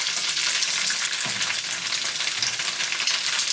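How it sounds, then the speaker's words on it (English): Tofu, radish, dried shrimp and egg stir-frying for pad thai, a dense close sizzle with short stirring scrapes and bumps of the utensil against the pan. "I'm stirring the tofu, the radish, and the dried shrimp,"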